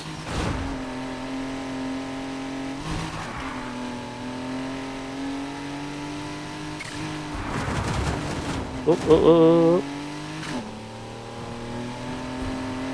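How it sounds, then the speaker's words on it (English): A small inline-three engine in Need for Speed Heat revs and holds several times, rising and falling in pitch, with brief shifts, a short burst of higher whine, and a voice speaking briefly. "it sounds pretty good, especially for being an inline 3"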